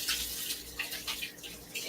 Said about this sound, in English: Wash your hands with soap and water.